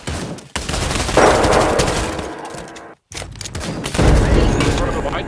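Rapid gunfire crackles in bursts through a Trouble in Terrorist Town match, loud and dense, cutting off briefly around the middle before starting up again. Voices come through intermittently.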